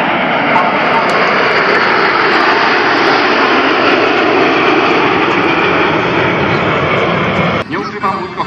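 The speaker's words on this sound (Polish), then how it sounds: "MiG-29 z 22. i 23. bazy lotnictwa taktycznego." A MiG-29 jet fighter at the Radom air show roars loudly and continuously overhead, a dense broadband engine blast that holds steady for several seconds before starting to fade near the end.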